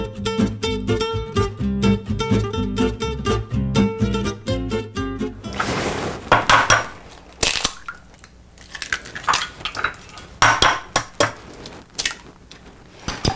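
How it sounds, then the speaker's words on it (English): Fork whisking eggs in a bowl for an omelette: rapid, steady metallic clinking of tines against the bowl, close and loud, shifting midway into sharper irregular clacks and taps with no talking. "So you want to give the eggs a nice whipping with the fork here."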